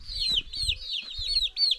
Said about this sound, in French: celui qui a le cocorico là